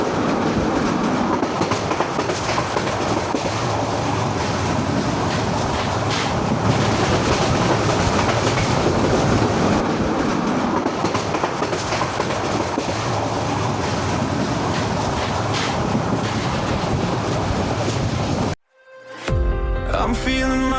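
Passenger train on the Dhaka to Cox's Bazar tourist express, heard from beside an open carriage door: a loud, steady rumble of wheels and wind with clickety-clack rhythm throughout, then a brief drop near the end.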